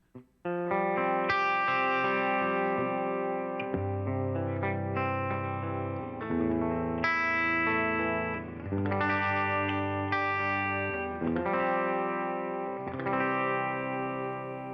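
Electric guitar on a clean setting with the neck pickup, a Fender and Vox amp blend on a Line 6 Helix Stadium, playing chimey sustained chords and arpeggios with a little chorus-like shimmer, loud and alone throughout.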